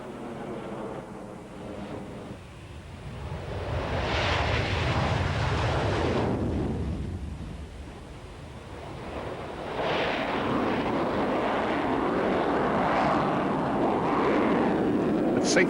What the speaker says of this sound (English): the Su-27, the flanker in NATO notation, demonstrates how powerful those engines are